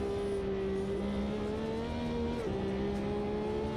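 Race car engines from the GT1 mod in the Automobilista 2 racing game drone steadily at high revs, with several cars close together and one pitch dipping briefly during a shift, and no talk.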